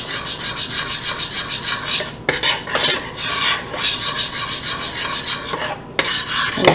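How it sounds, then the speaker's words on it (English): A spoon scrapes and rubs against a pot while boiling strawberry glaze is stirred, giving a loud, close, rhythmic rasping with a few brief pauses and no voices. "the package says to keep stirring and boiling for 1 minute"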